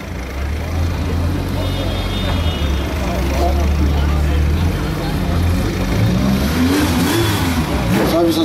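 A historic rally car's engine revving and idling on the start ramp of the Rallye Monte Carlo Historique in Copenhagen, a loud steady rumble with rising throttle blips, under crowd noise and nearby talk.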